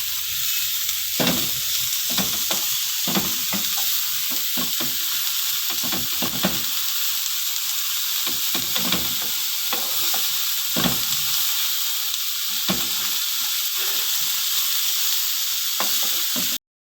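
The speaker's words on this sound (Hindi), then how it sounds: "अब मैं इसमें ये शिमला मिर्च डाल देती हूँ। इसको भी तकरीबन हल्का सा 1 मिनट फ्राई करेंगे।" Bell pepper (capsicum) frying in a pan for chicken spring rolls, a steady close hiss and sizzle with repeated scraping stir strokes throughout, no talking.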